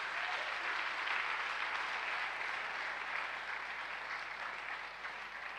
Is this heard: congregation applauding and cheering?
yes